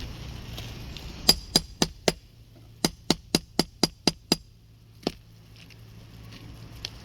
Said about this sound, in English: I'm going to start taking these nails out. Not being too aggressive with the shingle, just enough to get that nail puller where it needs to go